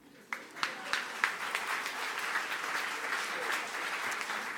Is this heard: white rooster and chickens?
no